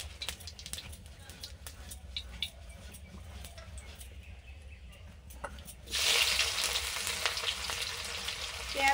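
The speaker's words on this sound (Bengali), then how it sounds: "ফোড়নে দিলাম শুকনো লঙ্কা, তেজপাতা, গোটা গরম মশলা, গোটা জিরে" Onions hitting hot oil already tempered with dried red chillies, bay leaves, whole garam masala and cumin for chicken curry, a quiet hiss that bursts into a loud, steady sizzle partway through, with faint background noise before it.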